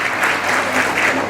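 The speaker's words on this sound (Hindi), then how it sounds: "जोरदार ताली।" Strong applause from an audience at a Buddhist community women's empowerment conference in India, a dense, steady burst of clapping filling the short moment.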